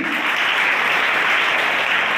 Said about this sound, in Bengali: রাজ স্যারের যে স্টুডেন্টরা আছে তাদের জন্য একটা বড় হাততালি